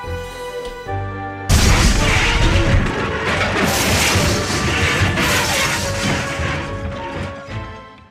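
Runaway train trucks crash into a sawmill load of timber spilled across the tracks, a loud sustained smash of splintering wood and clattering wreckage that erupts suddenly after quiet music and rumbles on for several seconds before fading.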